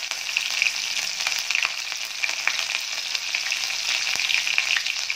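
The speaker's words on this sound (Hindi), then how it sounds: "ये हरी मिर्च डाल देती हूँ।" Green chillies and cumin sizzle in hot oil in a pan for a potato-fenugreek dish, a steady bright crackling fry with small pops, close and uninterrupted, with no voices.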